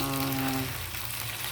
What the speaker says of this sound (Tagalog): Nagpiprito tayo ng tilapia